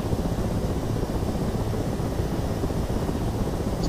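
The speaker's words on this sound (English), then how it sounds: "go back and get your propeller spinning" A UH-1 Huey helicopter rotor in the DCS flight game, a loud, steady, close droning whir of rotor and engine, running alone without any voices.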